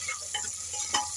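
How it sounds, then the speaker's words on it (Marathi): Onion sauteing in a pan for masoor rice gives a soft, faint sizzle with a few light stirring taps and scrapes over a short stretch. "कांदा चांगला परतून घ्यायचा आहे"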